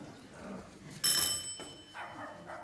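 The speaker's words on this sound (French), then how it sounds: "On sonne." A doorbell rings with one short, bright burst on a theatre stage during a comedy, heard amid faint stage background noise.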